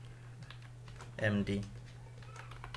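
A short burst of computer keyboard typing under a brief spoken word, over a steady electrical hum, while an email address is entered.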